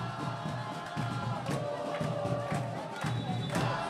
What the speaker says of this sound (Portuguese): Galo, galo, grita a torcida.